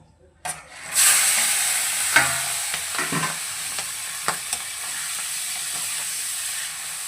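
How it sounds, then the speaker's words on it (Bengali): Prawns go into hot oil in a pan with a sudden burst of sizzling that settles into a steady fry, broken by several spatula scrapes and taps as they are stirred. "এবার চিংড়ি মাছটা ভেজে নেব তেলে গুলে চিংড়ি মাছটা ভেজে তুলে নেব"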